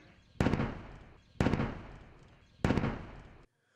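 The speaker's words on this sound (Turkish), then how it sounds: "Silahlı insansız hava araçlarının belirlediği hedefler, obüsler ve top atışlarıyla vurularak imha edildi." Howitzer and artillery fire hitting targets: three heavy blasts spaced about a second apart, each with a sharp onset and a long rumbling decay.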